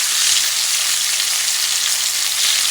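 A ribeye steak sizzles steadily in a pan on a stovetop after being flipped, a continuous, fairly loud frying hiss with no talking.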